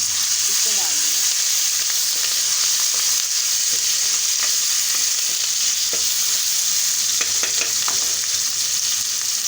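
A coarse paste of ginger, garlic and green chili sizzles in hot oil with browned onions, a loud continuous frying hiss with occasional stirring scrapes close by.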